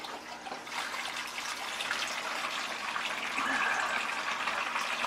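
Water rushes steadily through a small aquarium siphon hose during a water change in a planted tank, a continuous close gurgling flow that swells slightly toward the end, with no voices.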